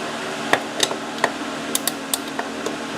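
Metal tool work tightening a castle nut on a Chinese ATV, a series of sharp, sparse clinks and taps at irregular intervals over a low background hum.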